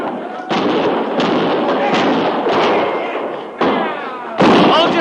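Rifle volleys on a frontier army battlefield in an old radio western, a series of heavy booming shots in repeated waves, loud and close with a rough, roaring tail between blasts.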